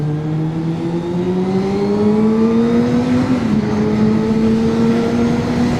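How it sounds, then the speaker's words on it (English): A 750cc sportbike engine drones loudly while climbing in pitch, then dips abruptly on a rough downshift, and keeps humming steadily afterward. "that was a bad fucking downshift"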